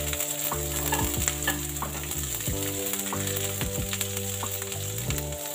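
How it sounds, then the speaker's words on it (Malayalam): Coconut pieces and onion fry in coconut oil in a pan, a steady loud sizzle with stirring and scraping knocks throughout, plus a constant low hum; no one speaks. "തേങ്ങക്കൊത്ത് ഒരുവിധം മൂത്ത് വരുമ്പോഴത്തേക്കും നമുക്ക് ഉള്ളിയും കൂടി ചേർത്ത് കൊടുക്കാം"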